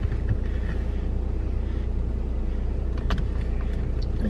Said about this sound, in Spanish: Esperar a que se caliente un poco el carro.